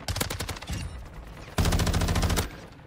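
Automatic gunfire in Call of Duty Warzone, close and loud, in two rapid bursts with the second heavier and sustained; no speech over the shots.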